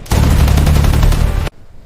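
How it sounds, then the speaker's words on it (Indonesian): A pirate ship cannon fires, making a loud sustained burst of booming shots that lasts about a second and a half and then cuts off abruptly into quiet. "Tembakan meriam."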